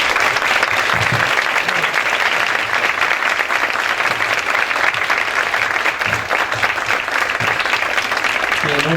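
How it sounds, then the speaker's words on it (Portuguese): Audience applause for two debaters at a talk on the Jesuit order, loud, dense and sustained clapping that fills the whole stretch, with a few voices faintly beneath it. "agradecer com uma salva de palmas aos nossos dois debatedores"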